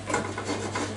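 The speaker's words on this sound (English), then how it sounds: "Turn on the gas," Gas burner on a kitchen stove being switched on for cooking, giving a steady breathy hiss with a low constant hum underneath, close and moderately quiet throughout.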